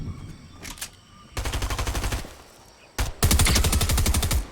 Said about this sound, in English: So if you want, pull out your SMG.